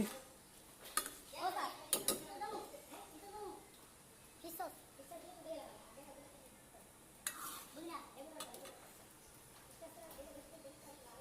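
A spoon stirs chicken Thai clear soup in a pot, with faint intermittent scraping and clinking against the cookware under someone talking and a voice.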